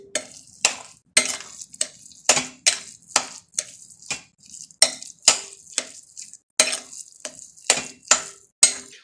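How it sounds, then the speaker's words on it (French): Pumpkin seeds being mixed with crumbled Knorr stock cube spice for a smoked-fish pumpkin seed dish make brisk, repeated scraping strokes, close and crisp, in uneven bursts with short pauses and no voices. "nous avons fini de mélanger les graines de sucreries avec notre épice de cubes de Knorr"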